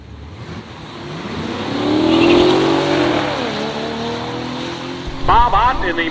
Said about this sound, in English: At the finish line, Marchanko puts down a great run, 12:42, 112 miles per hour for the brand new 2021 Toyota Supra.